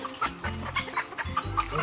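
Chickens bought at a market cluck in short repeated bursts, several soft calls in quick succession, fairly quiet and close with no talk.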